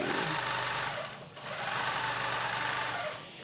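A longarm quilting machine stitches a Continuum quilt with a steady, fast mechanical whir and rhythmic needle chatter, close and continuous, dipping briefly once before resuming.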